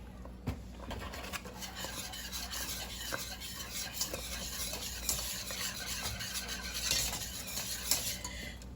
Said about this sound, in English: this is why a whisk is so important when you're making a roux